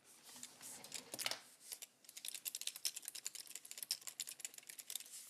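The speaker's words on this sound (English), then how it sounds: "My keyboard is so loud." Rapid clacking keystrokes on a loud computer keyboard, close and crisp, in an irregular burst, a short pause near the two-second mark, then a denser run of taps with no talking.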